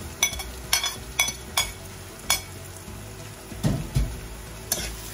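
Tomato cooking with sayote in a pan for sayote with egg, a soft steady sizzle under a series of sharp spoon or utensil clicks and scrapes against the pan.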